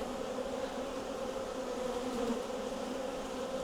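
A dense swarm of honey bees hums at the hive, a steady, even drone that fills the whole stretch without any voices.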